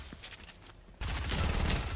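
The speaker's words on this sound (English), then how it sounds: "For this quest, you have to deal damage with the Unvaulted submachine gun." Unvaulted submachine gun firing in Fortnite, with a dense, continuous burst of rapid shots that starts abruptly halfway through and stays loud to the end, after quieter game noise.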